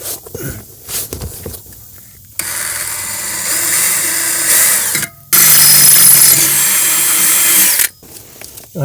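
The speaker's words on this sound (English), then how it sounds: "we're going to have to drill holes to mount these" A power drill boring mounting holes for a Torklift GlowStep Revolution stair set on a Bigfoot RV, heard as a close, loud whine in two long sustained runs after a few short starts.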